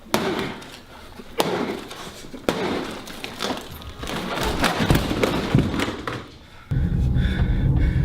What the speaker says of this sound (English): His TV in the living room, I just smashed the shit out of it.